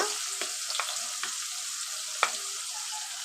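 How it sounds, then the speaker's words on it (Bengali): Garlic paste and other spice pastes fry in oil left from frying fish, giving a faint steady sizzle with a few soft clicks and scrapes of stirring, close but quiet. "দিয়ে দিলাম রসুন বাটা ওই একই তেলে"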